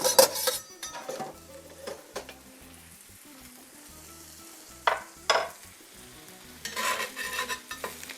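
A spatula scrapes and clinks in a hot pan as tortas melt down, with bursts of sizzling and metal-on-pan scraping at the start, middle and end over a low steady background.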